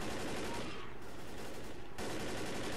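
Rapid M16 rifle gunfire from the Left 4 Dead video game, a dense, continuous burst of loud shots that eases briefly in the middle before resuming at full strength.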